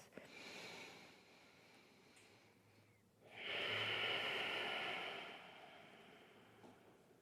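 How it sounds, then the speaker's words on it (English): Steady ujjayi breathing during a yoga stretch, a soft airy hiss that swells into a louder, fuller exhale midway and then fades back down, close and alone. "you might even begin to connect to an ujjayi breath"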